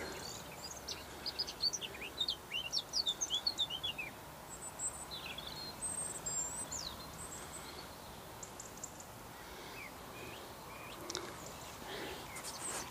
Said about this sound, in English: everywhere's very still, and it's birds all over the place